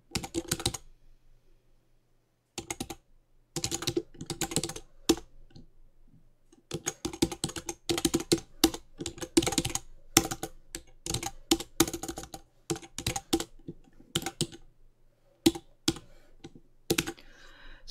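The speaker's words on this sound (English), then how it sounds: "each time I type in a new piece of content, I'm hitting the enter key to give it a new line" Bursts of fast, close keystrokes on a computer keyboard while entering address text in OpenOffice 4 Writer, with occasional heavier taps like the enter key and short pauses between runs.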